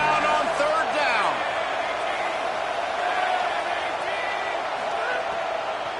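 Stadium crowd at a Florida Gators college football game roars in a steady, dense wash of noise on a third down, with a commentator talking over it.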